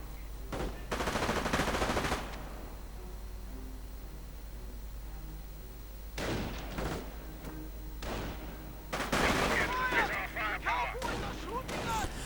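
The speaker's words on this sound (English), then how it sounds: "And now mortars being sent in desperately." Mortar blasts and rattling gunfire in a WWII real-time strategy game battle between US and Wehrmacht forces, coming in several loud bursts separated by quieter stretches.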